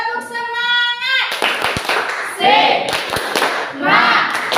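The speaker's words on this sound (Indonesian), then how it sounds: "kita tepuk semangat dulu" A classroom of schoolchildren performs a rhythmic spirit clap, the sharp claps close and loud, with children's voices chanting and a teacher's voice mixed in.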